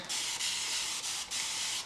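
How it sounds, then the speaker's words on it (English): A spray bottle misting damp hair, giving three quick close hissing bursts separated by short pauses. "I'm using my famous spray bottle"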